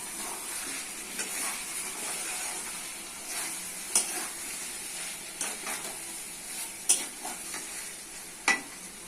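Potatoes with soy chunks and chicken fry and get stirred in a pan. A soft, steady sizzle runs throughout, with a few sharp scrapes and clicks from the stirring utensil.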